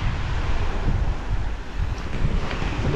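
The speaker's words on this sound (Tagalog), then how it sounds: "Taas pa rin ng alon." High sea waves and wind at an island resort in Maricaban, Batangas: a loud, blustery roar of wind buffeting the microphone over the rushing wash of surf, continuous and close.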